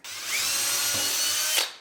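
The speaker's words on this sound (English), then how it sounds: "Then we'll drill one down here." A power drill whines loudly and steadily for about a second and a half as it bores through wood, then spins down and stops.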